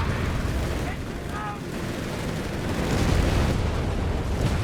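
Grenades going off amid battle in Company of Heroes 3, dense rumbling blasts and gunfire churning continuously under a commentator's voice.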